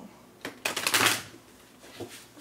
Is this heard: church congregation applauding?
no